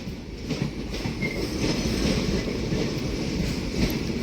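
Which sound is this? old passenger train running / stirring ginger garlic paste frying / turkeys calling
old passenger train running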